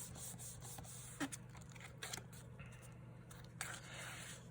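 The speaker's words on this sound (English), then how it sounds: "Just gonna flip them on the back and give them a good rub." Paper pieces are rubbed firmly against a surface to stick them down, giving soft dry scraping strokes with a few light taps, faint and close.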